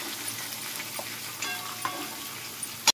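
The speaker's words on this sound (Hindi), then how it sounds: "अच्छे से फ्राई होने देंगे हम लोग पुदीना और जीरा।" Mint and cumin fry in hot oil, giving a steady soft sizzle with occasional stirring clinks and a sharp clatter near the end.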